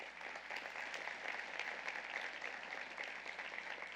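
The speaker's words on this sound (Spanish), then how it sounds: "Denle un aplauso al Señor." A church congregation applauds during a sermon, a faint, even patter of many hands clapping steadily throughout, with no voices over it.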